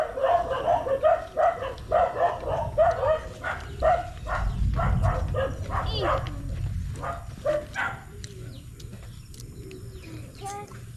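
Several dogs bark in quick bursts at a moderate distance, mixed with birds cooing and chirping and a steady background hum.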